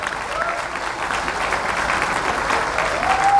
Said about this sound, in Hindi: जो जितनी तेज ताली बजाएगा, जो जितनी देर तक ताली बजाएगा, वो उतना बड़ा पैसा यहां से लेके जाएगा